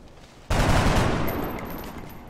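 A sudden loud burst of gunfire in the turn-based strategy game XCOM Long War breaks out of near quiet, then a dense crackling volley trails off over about two seconds.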